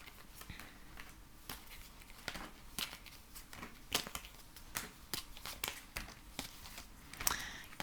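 Tarot cards being shuffled by hand at close range, a steady run of soft papery riffles and flicks with sharper snaps now and then, no voices.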